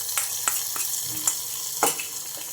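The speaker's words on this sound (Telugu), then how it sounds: "చట్నీకి అయితే పోపు అయితే రెడీ అయిపోయిందండి ఇంకా ఇందులోకి అయితే వేసేసుకుంటున్నాను" A tempering of hot oil and spices poured into ragi idli chutney crackles and sizzles, with a steady frying hiss and several sharp pops spread across the moment. No one speaks.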